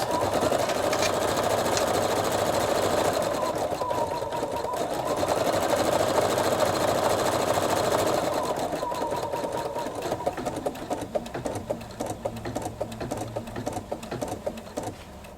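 A Pfaff Creative Sensation Pro embroidery machine runs steadily up close, its needle chattering in a fast, even rhythm with brief changes in pitch as it stitches, the whirring growing choppier toward the end.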